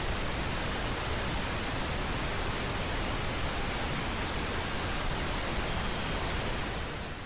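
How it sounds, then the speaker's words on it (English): Steady broadband hiss used as a masking demonstration, an even, unchanging noise filling the whole clip at constant level with no voices. "Broadband sounds mask all tones."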